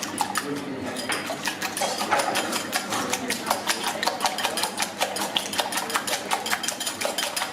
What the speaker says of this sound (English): Give those a whisk.